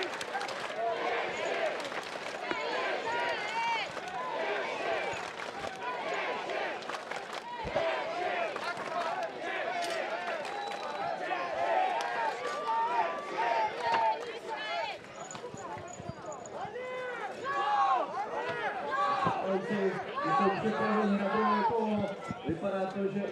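Crowd at a Battle of the Nations 5 vs 5 armoured fighting match, Israel against Czech Republic, cheering wildly and continuously for the Czech team, with shouting and roars swelling and falling, loud and close throughout.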